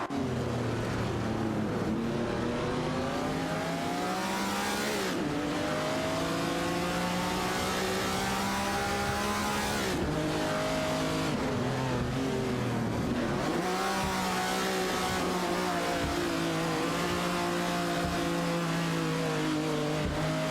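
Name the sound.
virtual race cars accelerating in AI racing game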